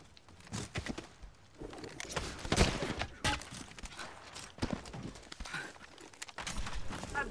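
Gunfire in a video game shootout: scattered sharp shots and bursts crack at varying distances, irregular and uneven, mixed with footstep-like thuds and clatter.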